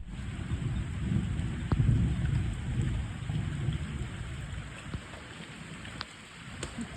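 Rain falling steadily through forest trees along a trekking trail toward Devkund waterfalls, a soft continuous wash with occasional sharper drips, moderately faint and without talk.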